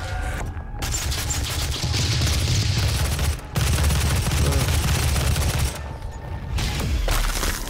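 Super shotgun blasts in DOOM fire again and again with heavy, booming reports and dense rumbling low end. The shots stay loud and close throughout, broken by two short gaps and with no talk over them.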